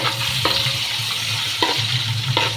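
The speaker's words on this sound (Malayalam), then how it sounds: "അപ്പോഴത്തേക്ക് നമുക്ക് ശർക്കര ഉരുക്കി എടുക്കാം ശർക്കര ഉരുക്കി" Jaggery melting in a pan for jackfruit payasam, with a steady low sizzle and a few sharp scraping stirs of a spoon against the pan at regular intervals, close and clear with no voices.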